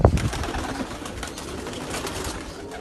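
Pigeons or doves cooing close by in a rooftop bird enclosure, soft low repeated coos with a brief rustle or knock at the start and steady ambient noise throughout.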